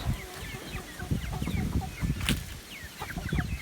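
Several chickens cluck and murmur nearby, soft overlapping calls with a few sharper squawks.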